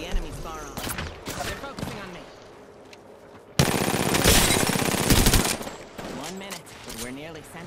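Rapid automatic gunfire in Apex Legends, a loud dense burst of about two seconds cutting in between stretches of a player talking, with quieter game sounds around it.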